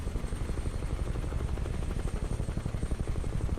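A Huey helicopter in a flight simulator game lifts off with a dense, steady rotor chop and turbine roar, loud and continuous throughout, with no talk.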